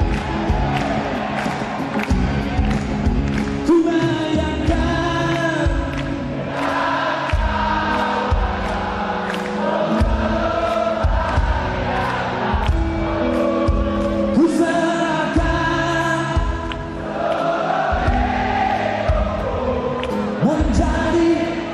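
A large crowd at a New Year's Eve concert party at KLCC in Malaysia cheers and shouts in loud, continuous roars, with music playing under the swelling waves of voices.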